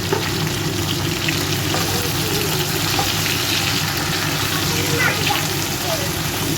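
A ground paste of white and black mustard seeds with ginger is frying in a pan for shukto. The loud, continuous close-up sizzle sounds like rain on a hard surface, with occasional soft stirring scrapes.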